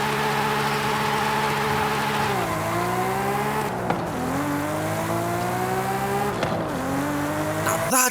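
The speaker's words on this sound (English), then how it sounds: "That is how a Supra should sound." A Toyota Supra engine in the Forza Horizon 5 racing game revs hard and continuously, its pitch climbing through the gears with brief dips at each shift, loud and close, with no talking.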